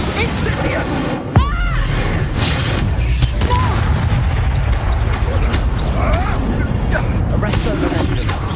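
A fire spell cast in Hogwarts Legacy combat: a sharp booming burst near the start, followed by continuous crackling, whooshing game effects and battle noise throughout, with voices talking over it.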